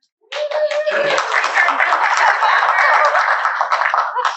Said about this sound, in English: Yay, such nice applause